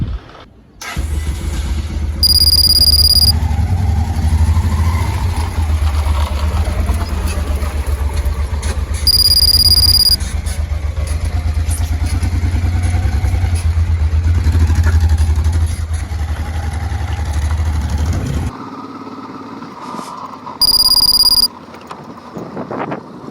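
A Honda Transalp motorcycle starting up and riding on the road in Ouagadougou, Burkina Faso, with a loud, steady engine drone close by. Beeping tones sound at intervals, and near the end the engine cuts off abruptly.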